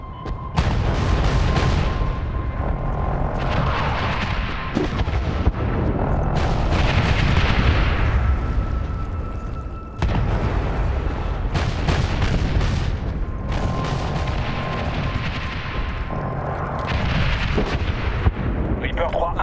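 Artillery fire strikes marked trucks in the video game Medal of Honor (2010), a run of loud booming blasts and rumbling impacts repeating over several seconds, with radio chatter mixed in.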